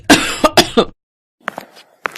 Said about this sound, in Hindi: ये खांसी तो मेरी जान लेकर ही रहेगी।